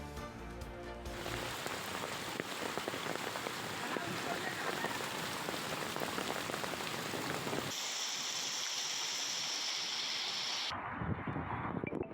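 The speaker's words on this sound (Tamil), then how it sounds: "ஆலங்கட்டி மழை வெகுநேரமாக பெய்து வந்த காரணத்தால் காஷ்மீர் போல் மாறிய கர்நாடகா." Heavy hail and rain pour down steadily in Karnataka during a long storm, a dense close hiss of drops striking surfaces that shifts partway through to a thinner, brighter patter before fading toward the end.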